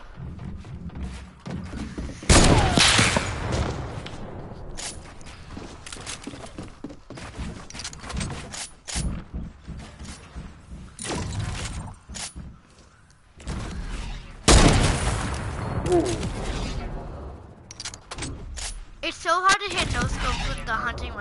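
Heavy sniper rifle shots in a shooter video game: a few loud, sharp booming blasts, strongest near the start and middle, with game effects between them and a voice talking.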